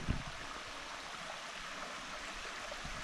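Creek water flows steadily through North Chickamauga Creek Gorge, a soft, even rushing wash with no distinct splashes and no voices.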